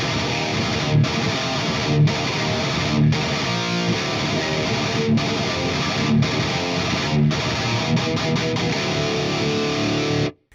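Distorted electric guitar recorded through an Emissary impulse response with the S1.6 Solar mic in the center position, dense and loud with steady strummed chords and short rhythmic breaks roughly every second, playing alone without talk.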